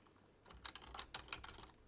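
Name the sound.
typing on a computer keyboard in Excel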